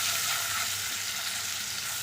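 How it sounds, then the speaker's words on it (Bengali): Chopped onions hit hot oil with spices for a biryani-style chicken dish and sizzle briskly, a dense, even crackle heard close by for about two seconds without any talking. "পেঁয়াজ কুচিগুলোকে আমি লাল করে ভেজে নেব"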